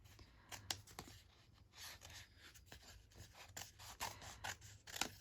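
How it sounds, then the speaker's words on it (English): Large scissors snip through paper in a quiet, irregular series of crisp cuts, close by, with soft rustling between snips. "I feel like I might do better with the bigger scissors."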